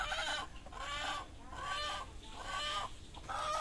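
Chickens, including a white hen, cluck in repeated bursts of rhythmic bawking at close range, four clear phrases over the span with no one talking.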